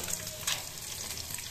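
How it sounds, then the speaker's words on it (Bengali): Small fish fry in hot oil in a home kitchen, a steady close sizzle with faint crackles running throughout the short stretch, no voices. "সুন্দর ভাজা হইতেছে"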